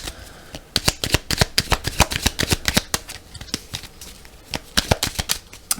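A deck of oracle cards is shuffled close up for a tarot-style reading. Rapid, loud riffling bursts repeat in quick clusters across the whole stretch, with no talk over them.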